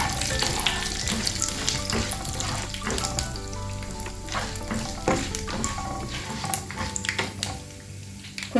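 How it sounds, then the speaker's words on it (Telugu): Cashews frying in hot ghee for Telugu daddojanam (curd rice tempering), a steady close sizzle and crackle with occasional stirring clinks and scrapes throughout, no talking over it. "కొంచెం సేపు ఇలా నెయ్యిలో ఫ్రై చేసుకుందామండి"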